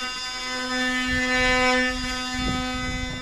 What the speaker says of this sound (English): got the multi-tool out there, just trimming up some fascia, the box ends